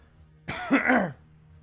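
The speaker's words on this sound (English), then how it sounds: "Sometimes it's just because I do need to cough. Like now." A single close, rough throat clearing, a short voiced harrumph-like cough lasting under a second against a quiet room.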